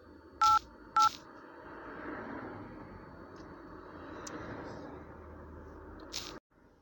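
Three DTMF telephone dialing tones, a number dialed as 888, beep in a quick pair followed later by a third, over a steady background hiss before the line cuts off abruptly.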